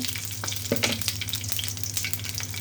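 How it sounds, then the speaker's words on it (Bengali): Bay leaves, dried red chillies and whole cumin sizzling in hot oil, a loud close crackling sizzle with occasional pops and light stirring clicks, no voices. "তিনটে তেজপাতা ইয়া শুকনো মরিচ দুটো তেজপাতা ফোড়নের জন্য দিয়ে দিব গোটা জিরে"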